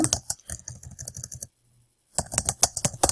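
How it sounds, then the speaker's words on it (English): Quick keystrokes on a computer keyboard while typing a message, a steady clatter of clicks that pauses for about half a second before resuming at a brisk pace. "I can type my message"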